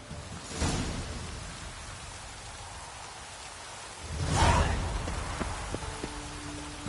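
Steady rain hiss in The Witcher 3, with a low rumble swelling near the start and again later, and a few small clicking game sounds toward the end.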